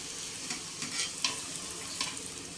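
Golgappa puris made from wheat flour and semolina frying in hot oil, with a steady close sizzle broken by several sharp scraping stirs and splashes as they are turned and puff up.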